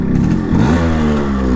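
A fully restored Yamaha RX 135 two-stroke motorcycle revs up close and loud, its engine note climbing briefly and then settling into a steady buzzing drone.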